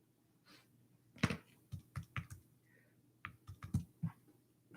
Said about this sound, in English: Just typing these in.